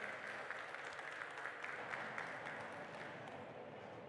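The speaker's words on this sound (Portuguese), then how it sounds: "Uma salva de palmas" Attendees at the opening of a national transport seminar applaud a transport official, a quiet, distant crowd clapping that holds steady and slowly fades.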